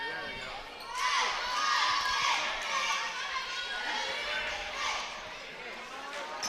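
A home crowd of Lucas Cubs fans stands and cheers loudly at a boys high school basketball game, with a rising burst of shouting and clapping that swells and holds over a noisy gym.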